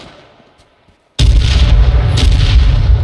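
A grenade detonates in a first-person shooter match: a sudden, very loud close blast after near silence, followed by a sustained rumbling roar with a second burst of debris noise, no talk over it.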